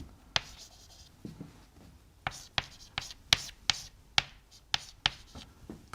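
Chalk writes on a classroom board during a math lesson, giving sharp irregular taps and short scratchy strokes close by, in quick uneven bursts with brief pauses between letters.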